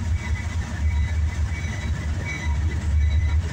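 A CSX southbound intermodal double-stack freight train rolls past close by, a steady loud low rumble of wagons with rail noise continuing throughout, no talking.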